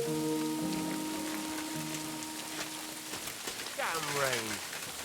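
Rain falls steadily in a medieval setting in Kingdom Come Deliverance II, a constant wash under voices. Someone speaks over it, and there are brief tonal calls and a sweeping sound toward the end.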